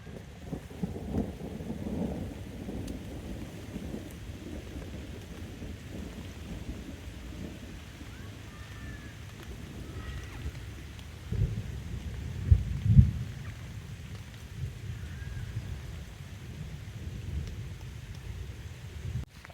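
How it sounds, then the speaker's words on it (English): Heavy rain during a thunderstorm at an outdoor landscape spot, a steady wash of downpour with low thunder rumbling throughout and a sharper, closer crack near the middle. "There is a wall of rain rolling in, and it's getting closer every second."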